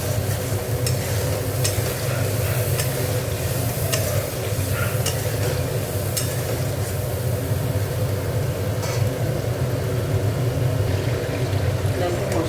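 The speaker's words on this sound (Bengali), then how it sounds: "এবার মশলাটা একটু কষাবো।" Spice paste for a soybean curry is sautéed in a pan, giving a loud, constant close frying hiss with rhythmic scraping stirs and a low background hum throughout.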